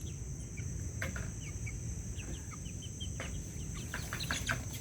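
Small chicks chirp in short, high peeps scattered over a steady low rumble of morning ambience, with fowl clucking faintly in the background.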